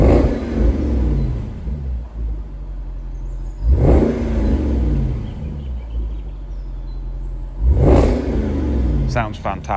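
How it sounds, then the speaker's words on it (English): A 2010 Jaguar XKR with a 5.0-litre supercharged V8 is revved three times while stationary, each blip rising sharply and falling back to a deep burbling idle, loud and close. "Let's just give her a little rev for you."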